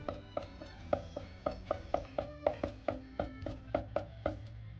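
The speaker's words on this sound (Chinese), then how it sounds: "最后切碎。" A knife finely minces vegetables on a cutting board in a steady, quick run of about eighteen crisp, evenly spaced chops, fairly quiet and close, with no talk.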